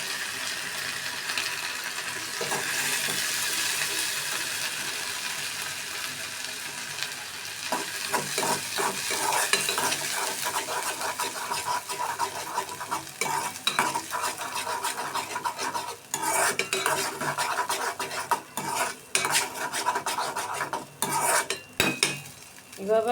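Loitta (Bombay duck) fish chutney, the fish ground with its bones, sizzles steadily in a pan while a spoon stirs and scrapes against the metal in irregular clinks, fairly close, with no talk.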